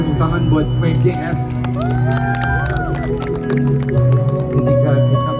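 An audience at the Prambanan Jazz festival applauds and cheers in a dense, loud wash, with shouts poking through and a tonal sweep in the middle while a voice carries on over it.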